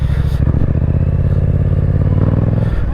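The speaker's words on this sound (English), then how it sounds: "Time for some bad wheelies." A Yamaha MT-07 motorcycle with a Yoshimura exhaust revs hard and close during wheelie attempts, its engine note surging and pulsing with rattling clatter throughout.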